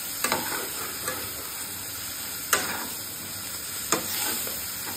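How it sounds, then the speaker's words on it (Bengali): Ginger, cumin, garlic and green chilli paste fries in a pan for a potato and pointed gourd egg curry, a steady close sizzle broken by stirring scrapes and a few sharp knocks of the spoon. "বেটে রাখা মশলা আদা, জিরে, রসুন আর কাঁচা লঙ্কা দিয়ে সব কিছু একসঙ্গে ভালোভাবে"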